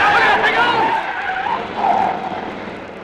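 Car tyres skid and squeal loudly for a few seconds as a vehicle swings into a lane in a radio drama, the screech fading slightly toward the end with no talk over it.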